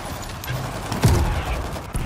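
Unsilenced shotgun blasts in the World War Z zombie shooter, on the Marseille map, land as a few sharp, loud bangs at irregular intervals over a busy game background.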